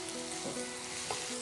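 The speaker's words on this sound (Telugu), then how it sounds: "సో ఉల్లిపాయ ముక్కలు కూడా కొంచెం బ్రౌన్గా ఫ్రై అవ్వాలా." Onion pieces frying with turmeric in a pan, a steady close sizzle with faint stirring, brief and without talk.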